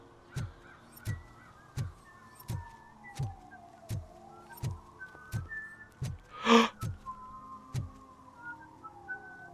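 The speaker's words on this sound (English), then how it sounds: "He's whistling the theme song." A character in a RoboCop video game whistles a melodic theme tune alone, the rising and falling notes running over a steady pattern of evenly spaced thumping footsteps, with a brief harsher burst midway.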